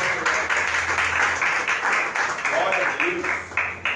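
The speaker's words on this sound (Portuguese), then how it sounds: "Vamos aplaudir ao Senhor Jesus." An Assembleia de Deus congregation applauds in church, a continuous rhythmic patter of many hands close by, with voices faintly underneath.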